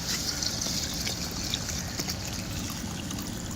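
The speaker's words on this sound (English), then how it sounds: "and then I fill it up with water" Water runs steadily into a plant-filtration container through cheesecloth stretched over the top, a close, continuous trickling splash with no pauses.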